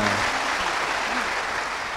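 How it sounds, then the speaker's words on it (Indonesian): An audience at a university religious lecture claps together in a dense, steady round of applause that fills the hall at an even, moderate level with no speech over it. "berikan tepuk tangan semuanya"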